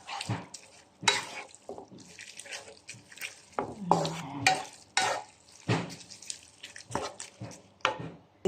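Noodles for pansit are stirred and tossed in a frying pan, with scraping and clattering bursts, light sizzling and wet splashes coming in uneven strokes close by.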